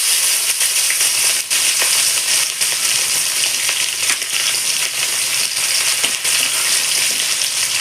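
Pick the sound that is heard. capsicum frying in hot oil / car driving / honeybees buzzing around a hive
capsicum frying in hot oil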